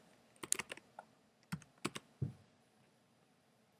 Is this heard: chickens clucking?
no